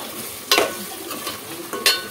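Chili powder stirred into a curry in a pan, spoon scraping in a few distinct strokes over a low background sizzle, close and with no talking.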